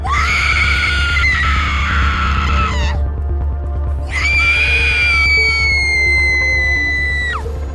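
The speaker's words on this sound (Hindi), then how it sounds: "कोयला पड़ते ही वो चिल्लाने लगी और अजीब सी" A cartoon woman shrieks after burning coal is thrown on her: two long, loud, piercing screams with wavering pitch, separated by a brief gap, over a low steady hum.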